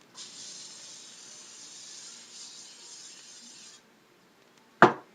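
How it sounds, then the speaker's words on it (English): A soft, steady hiss of nonstick cooking spray lasts a few seconds, then stops, followed by a single sharp knock or clatter. "I'm going to spray it with some nonstick cooking spray."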